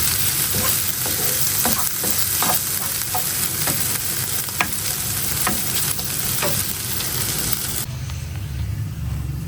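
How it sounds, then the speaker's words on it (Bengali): Small native shrimp sizzle and fry steadily in a pan, with repeated stirring clicks and scrapes over a dense, continuous crackle throughout. "এভাবে মাছ ভাজি যে কোনো মাছ ভাজি করলেই অনেক ভালো লাগে"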